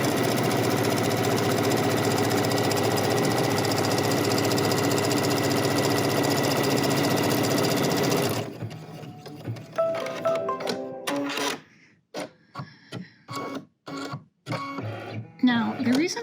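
An embroidery machine stitches an outline in the hoop with a steady, loud mechanical hum for several seconds, then stops, leaving scattered clicks and handling sounds while a person talks.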